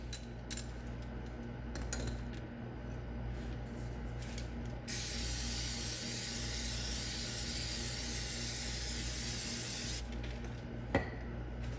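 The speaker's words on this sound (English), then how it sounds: "It's kind of nice using the spray too." A spray can hisses cleaner onto the brake calipers of a 2016 Harley-Davidson Road Glide, a long continuous close hiss of several seconds, preceded and followed by faint metallic clicks and handling noises.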